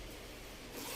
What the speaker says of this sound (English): And this is one zipper right here